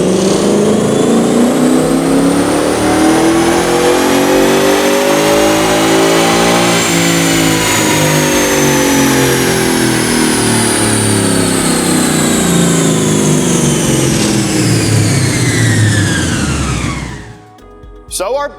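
A 2011-2014 Ford Mustang GT V8 with an off-road X-pipe revs hard in 4th gear on a dyno through a 6R80 automatic, climbing steadily in pitch for about seventeen seconds before cutting off abruptly.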